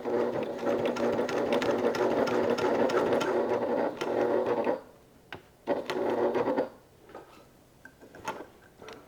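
A sewing machine stitches a crossbody bag in steady rapid runs for several seconds, then stops and starts in short bursts with a few clicks and handling noises between them, with no talking.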